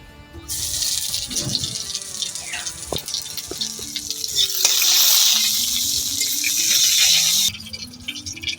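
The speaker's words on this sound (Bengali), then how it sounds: "তেল গরম হয়ে গিয়েছে এবার আমি দিয়ে দেব কুচানো আদা আর দিয়ে দেব শুক্তনি সজ" Chopped ginger and shukto spice mix hit hot mustard oil and fry with a loud, bright sizzle that swells midway, accompanied by scattered clinks and stirring scrapes, then drops away abruptly near the end.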